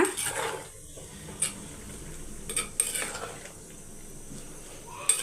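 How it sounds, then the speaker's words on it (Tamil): A spoon scrapes and clinks in a cooking pot while uncooked rice is gently mixed in for a meal maker biryani, with irregular metallic knocks and soft rustling strokes up close. "ரைஸு உடையாமல் மிக்ஸ் பண்ணிக்கோங்க"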